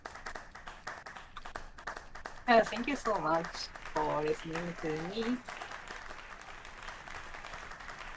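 Faint audience applause at a VR metaverse summit rattles on softly, with scattered claps running underneath a speaker who talks briefly in the middle before the clapping continues alone.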